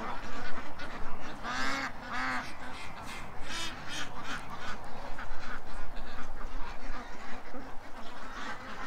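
Several ducks quack in short bursts, close and clear, over steady background rustling and low noise.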